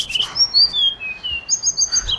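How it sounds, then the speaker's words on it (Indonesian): Small birds chirp and tweet in a series of high, sweeping whistled notes, close and clear over a soft outdoor background with no talking. "dengar suara burung nggak?"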